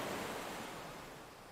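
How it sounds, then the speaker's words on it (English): A faint, continuous wash of ocean waves plays as a sound effect during a long intro to a tabletop role-playing session, soft and gently fading with no voices. "Why am I hearing ocean sounds?"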